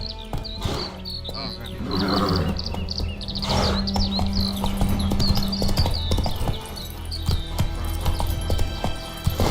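Roach, the horse in The Witcher 3, gallops with steady rhythmic hoofbeats amid chirping birds and insect buzz, while a voice talks over the action.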